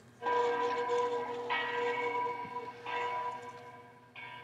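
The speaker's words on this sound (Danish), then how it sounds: "Jeg kan tydeligt huske, da kirkeklokkerne ringede ind." Church bells toll in slow, ringing strokes, each new strike swelling over the lingering hum of the last, moderately distant and with no talk.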